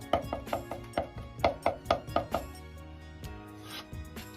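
A kitchen knife chops two cloves of garlic on a board, about ten quick, sharp knocks in a fast rhythm, then a few slower, sparser taps, close and fairly quiet.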